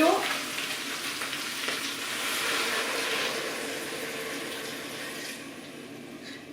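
Water poured into a cooking pot while making tartiflette, a steady close-up rushing pour with a soft hiss that runs unbroken for several seconds and tapers slightly near the end.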